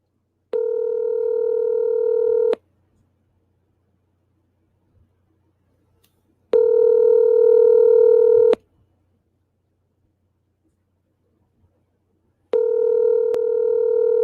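A telephone rings over a speakerphone in a county commissioners' meeting room: three even, two-second electronic ringback tones repeat about every six seconds, with near silence between them.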